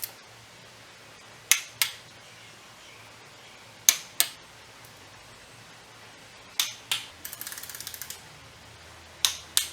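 Ratcheting torque wrench tightening plastic thermostat housing bolts with steel spacers onto an aluminum Jaguar XK8 engine: sharp isolated clicks in pairs, then a rapid burst of ratchet clicks, close and clear in a quiet setting.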